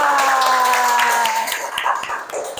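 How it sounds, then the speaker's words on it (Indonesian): Classroom group applause from teachers and students, a short burst of clapping over tonal background sounds that thins out toward the end, fairly close. "Oke, beri tepuk tangan untuk kita semua."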